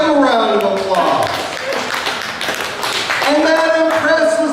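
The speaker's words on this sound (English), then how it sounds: "Give him a round of applause." A county fair audience gives a round of applause. A dense patter of hand claps runs throughout, mixed with talking voices and crowd noise.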